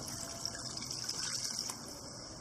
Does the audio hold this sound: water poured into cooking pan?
yes